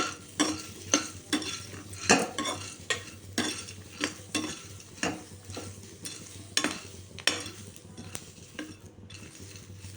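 Green chillies frying in a pan for chutney, a soft sizzle broken by regular scraping stirs of a spatula against the metal, repeating steadily every half second or so, close and moderately loud.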